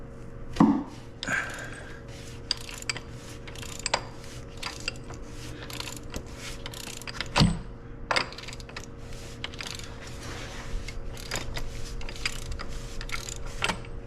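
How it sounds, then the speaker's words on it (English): Oil filter housing on a Porsche Macan is cracked open, with a series of sharp clicks, taps and metallic ticks from a tool working the cap, spaced irregularly over a low steady hum. "let's go ahead and crack this oil filter case"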